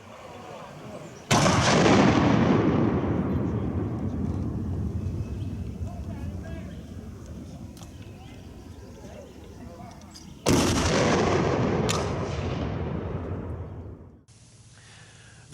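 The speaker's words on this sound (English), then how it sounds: "ships were trading fire back and forth" Heavy Civil War naval cannon fire in May 1864 at Albemarle Sound, the ironclad Albemarle trading shots with Union ships: a huge booming blast with a long rolling decay, then two more sharp reports near the end.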